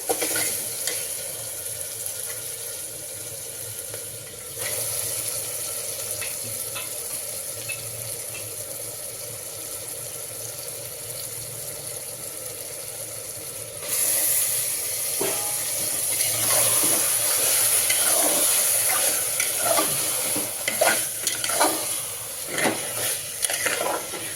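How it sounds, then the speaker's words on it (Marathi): Washed mutton fried with sautéed ingredients for a Dharashiv-style mutton rassa sizzles steadily in the pan, with repeated close stirring and scraping; the frying grows louder and busier partway through. "पाच मिनिटं मी असंच परतून घेणार आहे"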